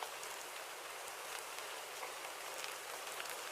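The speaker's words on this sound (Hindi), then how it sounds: "बारिश और तेज होने लगती है।" Steady rain pours down in a cartoon village scene, a dense even hiss of falling drops throughout, fairly faint and alone with no voices.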